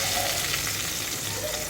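Onions frying in a kadai, a dense continuous sizzle with occasional stirring, steady and close with no talking.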